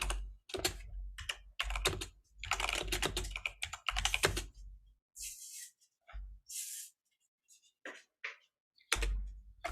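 Typing on a computer keyboard behind a bar, heard as several dense bursts of clattering keystrokes that stop and start, with short pauses and a few isolated clicks toward the end.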